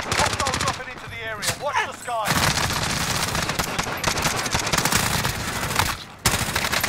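Rapid video-game gunfire in bursts, dense automatic clatter loud and close with brief pauses, a short gap near the end before shooting resumes.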